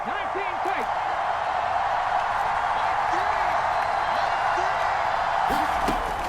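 Home stadium crowd at a football game, a dense continuous roar with scattered whoops and shouts, loud and steady throughout as voices talk over it.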